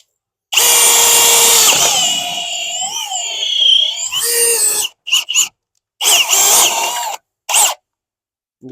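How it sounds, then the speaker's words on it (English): Power drill boring into a deck ledger board on a rooftop floating deck, a loud whining run lasting several seconds with changing pitch, then short stop-start bursts, close and alone. "the drill again"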